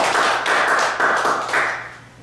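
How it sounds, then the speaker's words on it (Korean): A seminar audience at a talk on success gives a short burst of clapping, a steady dense patter that eases off toward the end. "믿으시고 박수 한번 주시죠."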